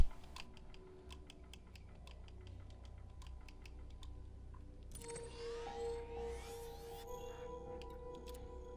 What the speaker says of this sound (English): I'm typing something in